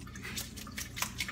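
Water dripping from a kitchen tap just after rinsing ground deer meat, a few soft, irregular drips over a faint background hiss, quiet and close with no talking.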